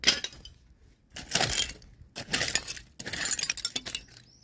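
Broken plate glass clinks and scrapes in short, bright bursts as shards are pulled from the dirt at an antique bottle dig, three clusters of close, moderately loud jangling with brief pauses in between.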